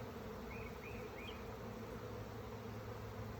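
A swarm of bees buzzes steadily around a house, a dense continuous hum filling the scene with no talking.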